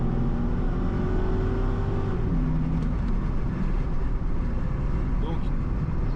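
A 2001 Chevrolet Corvette C5 driving, its engine giving a steady low rumble with shifting droning tones, loud and continuous, with road noise underneath.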